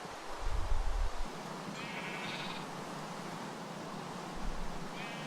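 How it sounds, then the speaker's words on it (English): Sheep bleating in a modded Minecraft-style game: several short, faint bleats sound over a steady hiss of background noise, with low rustling bumps near the start and end. "there we go, more sheep"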